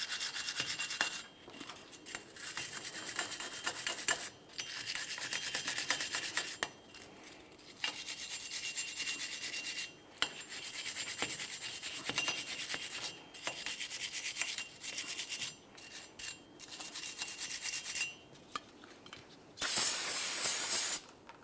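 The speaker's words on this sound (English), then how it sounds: "clean and inspect our mating surface on our wheel bearing hub. Use a wire brush for this if needed." Wire brush scrubbing the wheel bearing hub mating surface on a 2002-2009 Chevrolet Trailblazer during a front brake job, a close continuous scratchy rasping in repeated strokes with brief pauses and a sharper hiss at the end.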